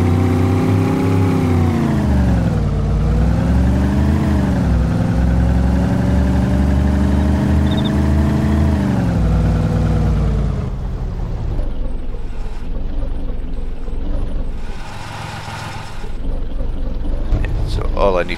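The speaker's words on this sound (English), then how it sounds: "Let's turn the engine off." A car engine idles steadily in ARMA 2, a loud continuous hum that rises and dips slightly in pitch before cutting out, leaving quieter game ambience.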